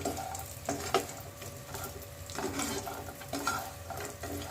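Lentil dumplings (bori) fry in oil in a wok, a moderate steady sizzle broken by stirring and the clink of a utensil against the pan, heard close with no talk.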